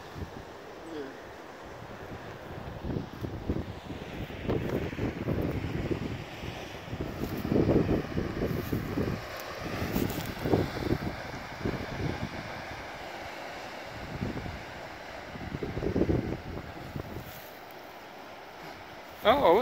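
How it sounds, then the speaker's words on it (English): Ocean waves below a lighthouse, a continuous low surging wash with repeated swells rising and falling, mixed with gusty wind buffeting the microphone. "You hear the ocean?"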